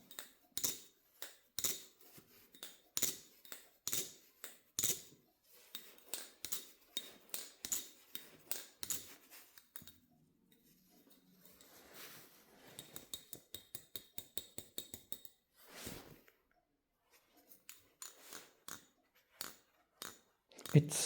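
Armed Shark Steel Madko balisong butterfly knife flipped in a long run of sharp metallic clicks and clacks, close and crisp, with quick bursts and short pauses, no speech over it.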